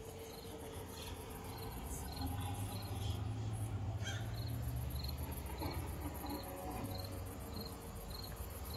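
Crickets chirp as a sound effect at a home haunted-house display, a steady, rapid pulsing rhythm against a soft outdoor hum, fairly faint and continuous with no voices.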